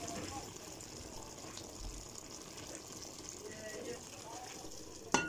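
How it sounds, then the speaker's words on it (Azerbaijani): Stuffed grape leaf dolma boils in a pot, a faint, continuous bubbling simmer heard up close at low volume, ending with a short clatter. "dolma qaynayır"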